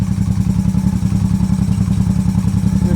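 A Honda Shadow VT1100 motorcycle engine runs after starting, a loud, close, steady low rumbling idle with even rapid pulsing.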